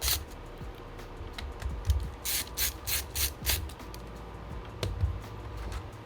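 A screw is driven into a 17-inch Dell Inspiron laptop with a ratcheting screwdriver, giving a run of quick, close mechanical clicks in uneven clusters over a quiet background.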